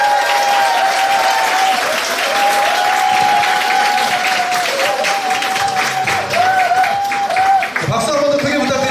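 Steady audience applause at a Korean corporate presentation where the CEO is being introduced, dense clapping from a large crowd at full volume, with a voice speaking over it throughout.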